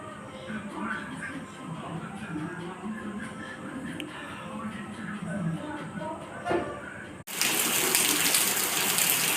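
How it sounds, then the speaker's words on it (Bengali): Heavy rain at night, a constant broad wash of falling water that swells abruptly to a louder roar near the end, with faint sounds in the background. "রাতের দিকে প্রচুর বৃষ্টি আরম্ভ হয়েছে বৃষ্টি করছে খুবই এখন শুধুই বৃষ্টি আর বৃষ্টি"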